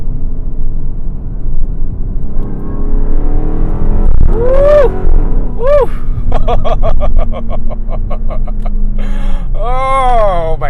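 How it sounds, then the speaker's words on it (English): A supercharged, air-suspension Dodge Magnum SRT-8 engine and exhaust idle with a low rumble, then rev sharply in a few quick, loud, close blips, followed by a burst of rapid pulsing exhaust and a final rev. "I just love the exhaust on this thing."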